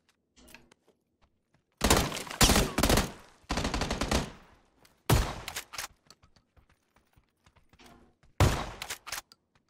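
Shotgun fire in an online shooter game, a series of loud sharp blasts in separated bursts with quiet gaps between them, each followed by short mechanical clatter, with no talking.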